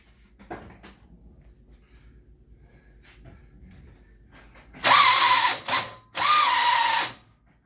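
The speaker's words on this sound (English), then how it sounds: "you could hear the starter motor is pretty much totally seized up at this point" Seized starter motor on a 1964 Chevrolet Malibu, two loud grinding bursts of about a second each after a quiet stretch with faint shop clatter.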